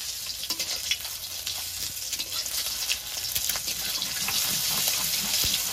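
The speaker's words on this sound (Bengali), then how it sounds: "এবার একটা একটা করে উল্টিয়ে নেব" Eggs sizzling steadily in hot oil in a pan as they are turned one at a time, a continuous crackling fry with faint scraping and clinking, close and moderately loud, with no talking.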